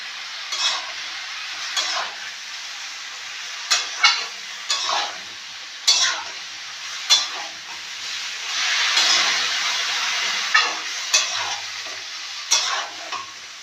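Mixed vegetables fry in a pan under a steady bright sizzle, while a spoon scrapes through them in regular close strokes roughly every second or two.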